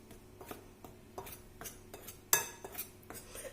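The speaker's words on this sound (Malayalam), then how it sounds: "ഒരു സ്പൂൺ വെച്ചിട്ട് ഇതൊന്ന് മിക്സ് ചെയ്ത് കൊടുക്കാം." A spoon stirs flour and salt in a bowl, giving a string of light scraping clinks and taps against the bowl. A sharper knock lands partway through, and no one speaks.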